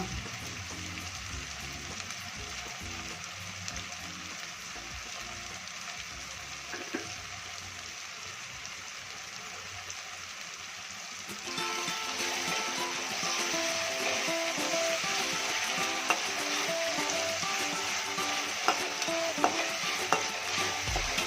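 Tomatoes fry in a pan with a steady sizzle and intermittent stirring scrapes, the frying growing louder and brighter partway through, with no talking.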